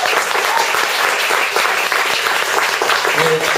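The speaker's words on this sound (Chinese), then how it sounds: "那掌声好像还是不够热烈的" A crowd applauding at a small live music show in the Witch House venue, a thick, loud wash of clapping hands that carries on evenly without pause.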